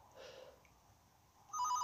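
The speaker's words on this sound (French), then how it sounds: "Le téléphone se remet à sonner" A telephone rings inside a Fortnite horror map, heard faintly at first and then swelling to a louder, steady trill near the end, with no talking.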